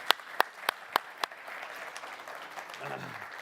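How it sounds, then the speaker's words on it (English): An audience at a prop trading firm expo in London claps: a few sharp, distinct claps come first, then softer scattered applause fades out, faint and somewhat distant. "But a round of applause for both Akala and Yush."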